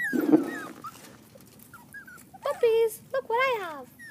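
Husky puppies whimper and yip at close range: a few faint whines early on, then a burst of rising and falling high-pitched cries in the second half.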